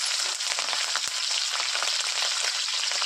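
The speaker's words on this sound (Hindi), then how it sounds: "मिर्ची भी अच्छी तरह से भून चुका है दोस्तों" Chopped chillies sizzle and fry in hot oil with garlic, a dense steady crackle that stays loud and close throughout, with one brief thump partway through.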